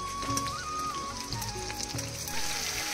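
Chilli chicken frying in a pan, with a steady sizzle running throughout alongside background music, no talking.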